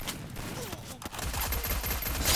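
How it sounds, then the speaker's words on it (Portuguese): Gunfire rattles in the Free Fire Max shooting game as fast bursts and single cracks, loud and close, growing denser toward the end, with no speech over it. "tão dando tiro na gente, cuidado"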